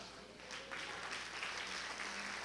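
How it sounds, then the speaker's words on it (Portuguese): A church congregation applauding Jesus during a sermon: soft, distant, diffuse clapping spread through the room at low volume, steady for a few seconds. "Quero que você fique de pé e aplauda bem forte a Jesus."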